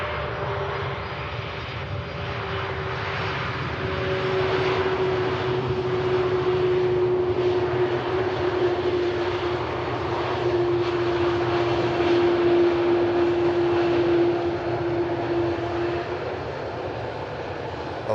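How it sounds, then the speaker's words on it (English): A Turkish Airlines Airbus A330 heavy, arriving from Istanbul, touches down with a sustained jet engine roar and a steady whining tone that swells and fades slightly, loud and close with no voices. "Lovely touchdown from the 330, arriving in from Istanbul."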